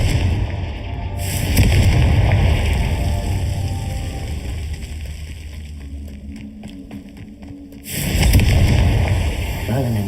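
Confringo blasting curse in Hogwarts Legacy, two loud booming explosions, one at the start and another near the end, with a rumbling tail between them and a voice speaking briefly.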